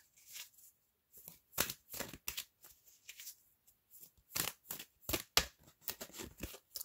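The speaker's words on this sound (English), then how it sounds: "I'm going to pull out just one last advice card." Tarot cards shuffled by hand close up, a string of quick papery riffles and soft slaps in uneven bursts with short pauses, no voice heard.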